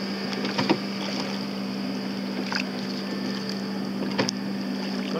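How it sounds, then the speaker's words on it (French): A Zodiac inflatable motorboat running on the water, with a steady engine drone and hull noise holding constant throughout, broken by a few brief splashy bursts. "Le Zodiac, il va vite, hein."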